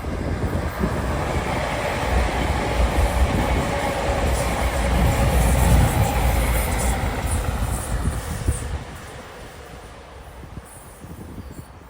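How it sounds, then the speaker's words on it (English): A cross-country passenger train on the Plymouth to Edinburgh service passes near Chesterfield, heading north. Its rumble swells to a loud peak midway with wind buffeting the microphone, then drops off sharply as it moves away. "Plymouth Edinburgh service, a cross-country service heading north out to Chesterfield."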